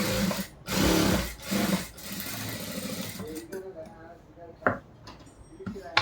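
A sewing machine stitches a churidar top in several loud, close running bursts that then stop, with a person speaking over and between the stitching.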